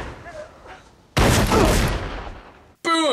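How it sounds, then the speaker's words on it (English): Gunfire in a film: a loud, sustained burst of shots erupts after a quieter stretch, filling about a second and a half, followed by a brief gap and another sharp loud onset at the end. "Unless he's saved by gunfire."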